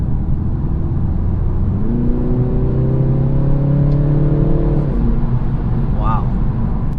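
A 2019 BMW 330i four-cylinder engine accelerates on the road, its smooth rising drone climbing for a few seconds over constant road and wind noise before easing off.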